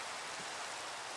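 Steady rain in Minecraft, a soft, even hiss of falling drops with no distinct splashes, faint and continuous throughout with no voices.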